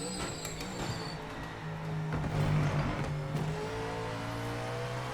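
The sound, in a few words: GT4 race car engine in the game Project Motor Racing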